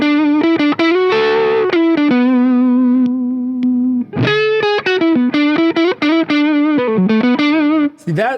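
Overdriven electric guitar through a Visual Sound Open Road overdrive pedal on the neck pickup, playing a loud, sustained melodic phrase of bent and held notes with a brief pause midway, heard alone.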